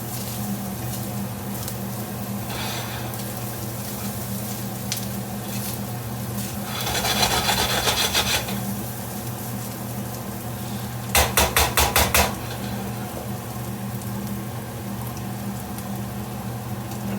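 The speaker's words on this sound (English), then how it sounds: "Stir it all stirred up and good." Leftover corned beef brisket stirred in a pot, a soft constant scraping under a steady background hum, with two short bursts of rapid clattering strokes near the end, close and fairly quiet.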